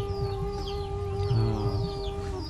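Hens cluck in a poor village yard in Kurigram, Bangladesh, a few repeated calls with a brief rooster-like crow in the middle over a steady background tone, moderately close and with no talk.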